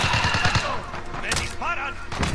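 Airsoft BB guns firing during a skirmish, sharp repeated pops scattered through the clip amid shouting players and general commotion.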